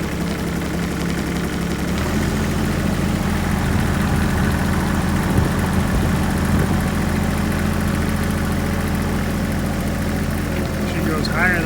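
A 2020 Kioti CS2210 compact tractor engine starts and settles into a steady, fairly quiet idle with a low droning hum, running evenly and close by.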